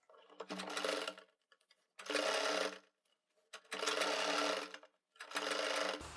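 A sewing machine stitches folded binding beside piping around a round neckline, running in four separate bursts of steady whirring with brief pauses between them, close and clear.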